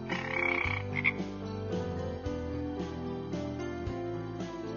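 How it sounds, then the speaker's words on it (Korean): A frog croaks again and again in a steady, even rhythm, close and clear over a continuous tonal backing. "개굴개굴, 개굴개굴, 개굴개굴."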